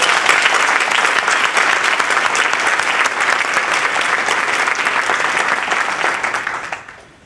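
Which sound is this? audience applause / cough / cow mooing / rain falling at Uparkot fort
audience applause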